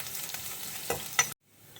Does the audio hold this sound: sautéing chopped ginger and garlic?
yes